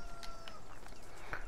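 Chickens cluck softly in a coop in the farming game Farming Simulator 19 on PS4, with short repeated calls over a steady background hum.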